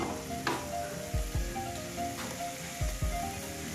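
Curry leaves and mustard seeds sizzle in hot coconut oil while a fish curry is started, a steady crackling fry with a few sharper pops and spatters close by, with no talk.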